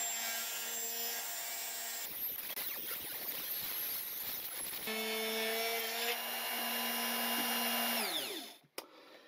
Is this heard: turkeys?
no